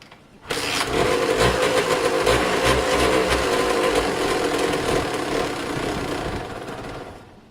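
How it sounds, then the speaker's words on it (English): A Kawasaki KDX 125 two-stroke motorcycle engine fires up and runs steadily, loud and close, with a rough buzzing idle that holds for several seconds before cutting off. "First kick that was. This bike's going to run absolutely brilliantly."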